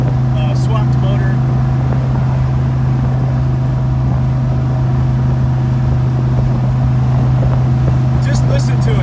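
A swapped big block engine in a 1967 convertible idling steadily with a deep, constant rumble, continuous and loud throughout, with faint clicks at the start and end.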